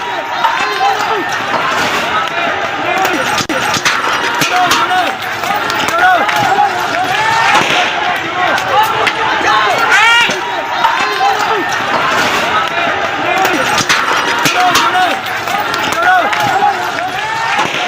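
Rioters pelting stones at a procession: a dense, loud crowd din of shouting with scattered knocks and impacts throughout.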